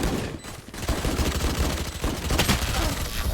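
Rapid gunfire from a Valorant match, dense bursts of rifle shots filling the whole stretch with a brief lull early on, loud and close in a competitive round.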